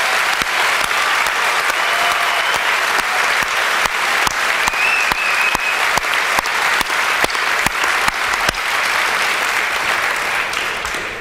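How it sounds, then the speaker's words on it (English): Long, loud round of applause from a large audience at a Coast Guard Training Center Cape May recruit graduation, steady dense clapping with sharp individual claps standing out, sustained throughout and fading slightly at the end. "would you please join me in a round of applause for the entire staff here at Training Center Cape May"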